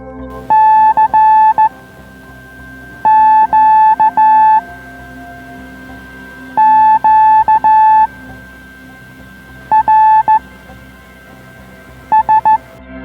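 Bursts of steady electronic tones from an amateur radio net on 80 metres come in short clustered groups with gaps between them, clean and evenly pitched over a faint background hiss.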